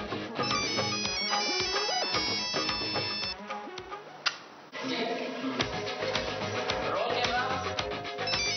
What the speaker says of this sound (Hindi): ये गौरव ना फोन करता रहता है कंटिन्यू